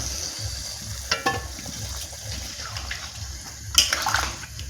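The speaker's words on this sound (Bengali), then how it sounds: "আমি চারদিক দিয়ে ঘুরিয়ে আমি জল দিয়ে দিলাম" Water poured around the edges of a pan of simmering chicken curry, giving a steady rushing splash over a sizzling, bubbling bed, close and fairly loud, ending with a brief clatter.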